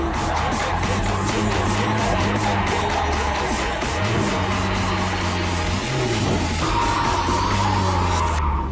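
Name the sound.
car drifting with tyres skidding and squealing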